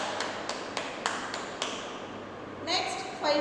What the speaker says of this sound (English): Next, four fingers clap.